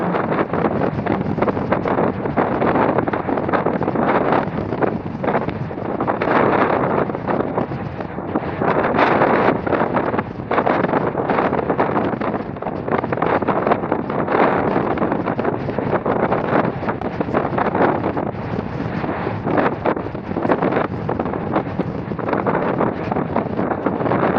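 Strong wind roars steadily across the open deck of a bulk carrier loaded with 88,000 tons of coal, buffeting the microphone while sea spray rushes and splashes in irregular gusts, loud and continuous, with no voices.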